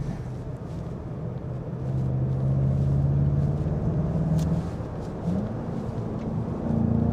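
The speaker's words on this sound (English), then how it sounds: "here's where we do our highway test just to see how this thing handles on the highway" A 2019 VW Jetta GLI 35th Edition with DSG gearbox accelerating up a highway on-ramp past trucks, a steady loud engine and road drone with a rising tone that swells midway and again near the end.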